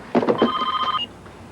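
A telephone rings with a short electronic trill, one burst of about a second, close and clear after a few faint bumps, with no talk over it.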